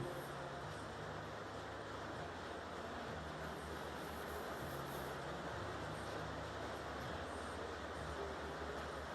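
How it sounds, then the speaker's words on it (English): Steady heavy rain falls outside at a low, even level, a continuous broadband wash with no talk over it. "It's raining like a banshee out there."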